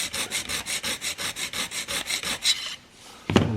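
An Annihilator single bevel broadhead blade is drawn over a sharpening stone in about fourteen quick, even rasping strokes, then a pause and a sharp knock.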